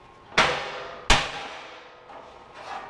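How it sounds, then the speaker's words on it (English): Two sharp hammer blows ring out close by as a cross member is tapped out of a heavy-duty off-road axle, each strike decaying quickly, followed by a couple of softer knocks. "So now I'm gonna see if I can tap this cross member out."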